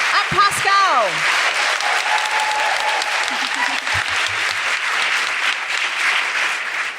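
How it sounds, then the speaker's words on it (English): Audience applause for Daniela, Becca, Steph and Pascale at a live podcast recording, a dense steady roar of clapping lasting throughout with some cheering and voices rising above it early on. "Could we have a big round of applause for Daniela, Becca,"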